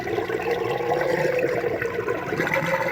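Water draining steadily through an aquarium hang-on-back overflow after the return pump is shut off, a continuous close, moderately loud gurgling rush with no talking.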